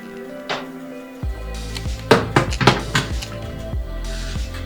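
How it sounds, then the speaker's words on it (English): A tray of tea scones is slid into the oven: metal clanks and knocks of the baking tray and oven door come close and loud in a short cluster, with a softer clatter before and after. "So I'll have this go in the oven."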